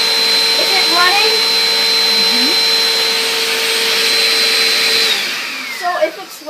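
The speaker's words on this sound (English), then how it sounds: "So if it's running when it's in upright position, that is a single motor vacuum." A vacuum cleaner with its beater bar running on carpet drones loudly and steadily with a high whine, then winds down near the end, leaving scattered clatter.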